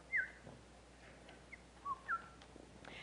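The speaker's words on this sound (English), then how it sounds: "the sound of sparrows chattering" Small birds such as sparrows chirp outside a window in short, separate bright calls, a few scattered chirps over a quiet background hiss.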